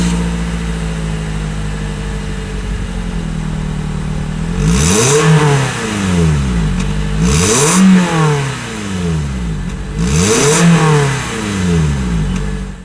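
The 1.8-liter engine of a 2016 Scion iM idles and is revved three times, each rev climbing sharply and falling back to idle, loud and close with no talk.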